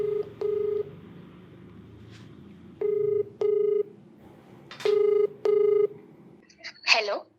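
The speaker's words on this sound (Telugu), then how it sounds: "సో మరి ఒకసారి కాల్ చేసేస్తానండి" A telephone call is dialed with six clear keypad tones in closely spaced pairs, followed by a short warbling ring-like chirp, heard up close in a quiet room.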